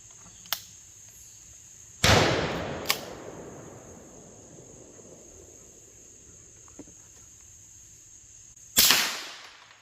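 A 9mm carbine fires Fiocchi 115-grain full metal jacket practice rounds outdoors, giving two loud, sharp shots several seconds apart, each trailing a decaying echo, with a few faint clicks between.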